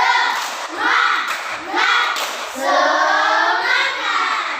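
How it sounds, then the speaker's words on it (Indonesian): A classroom of children performs the rhythmic 'tepuk semangat' clap, bursts of hand clapping in patterned groups mixed with the children chanting along in unison. "Tepuk semangat."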